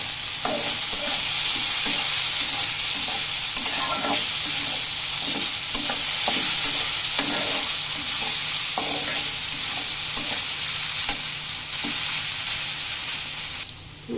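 Ingredients for a breakfast rice roast fry in a pan: loud, dense sizzling throughout, broken by frequent scraping and knocking of a spatula being stirred, close up, easing off at the very end.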